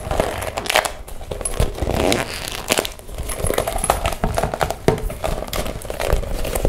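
A crinkly hot-pink plastic bag is handled and squeezed up close, giving continuous crackling, rustling crinkles with sharper snaps scattered through the stretch and no talking.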